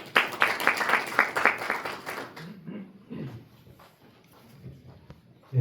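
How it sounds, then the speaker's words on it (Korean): Audience at a maritime labor union policy forum clapping for a speaker: a burst of brisk applause for about two seconds, then fading to scattered claps and room noise. "박수 부탁드립니다."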